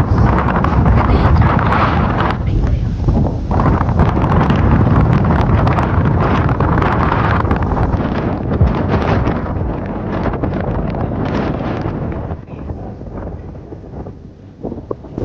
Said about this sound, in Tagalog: Napakalamig ng hangin dito.